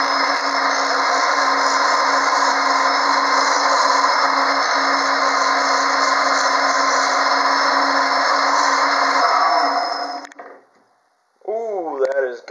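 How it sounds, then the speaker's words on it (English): A wood lathe spins a cocobolo pen blank with a loud, steady whirring rub for about ten seconds, then winds down and stops. A voice follows briefly in the quiet. "So we'll go ahead and fire up the lathe."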